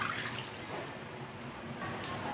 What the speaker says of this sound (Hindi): साथ में पानी डाल लेंगे